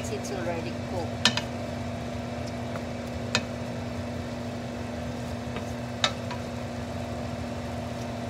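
Ground beef cooks in a pan with a steady, low sizzle and hum, broken by a few sharp clicks of stirring, close and continuous.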